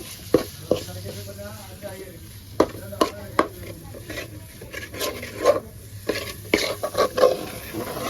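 Cooked beef curry with softened onions being stirred in a pan, with repeated scraping and clacking spoon strokes over a soft sizzle, close and moderately loud, and no talk.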